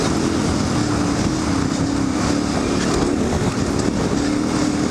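A KTM 990 motorcycle is ridden off-road, its engine making a steady, loud rumble with wind buffeting layered over it and no voices.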